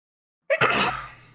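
A single sharp human sneeze bursts out after silence, close and loud, then trails off into a quiet breathy tail.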